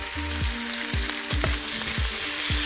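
Vegetables for chilli chicken fry in a hot pan, a loud steady sizzle broken by about six rhythmic scraping stirs of a spatula against the pan, no talk.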